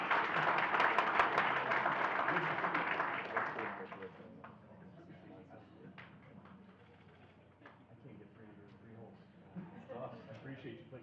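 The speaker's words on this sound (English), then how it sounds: "A golf clap, everybody!" Audience giving a golf clap at a school district honor roll event, a soft scattered patter of clapping for the first few seconds before fading into murmuring and light room noise.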